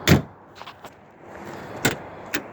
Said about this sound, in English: Open the rear door.